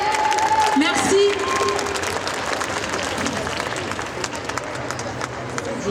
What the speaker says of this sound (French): On peut l'applaudir encore très fort s'il vous plaît?